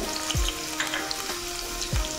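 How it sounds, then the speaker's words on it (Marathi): Chopped onion sizzles and crackles steadily as it fries in oil, with a few soft thumps and stirring sounds over the continuous hiss. "एक बारीक चिरून मी कांदा घेतलेला आहे फोडणीसाठी, तो आपण टाकून घेऊया"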